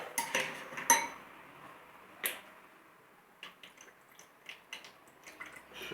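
A whisk or spoon clinks against a bowl while blending a vinegar vinaigrette with mustard and pepper: a few sharp taps, a pause, then a run of lighter irregular clicks, close and quiet with no voices.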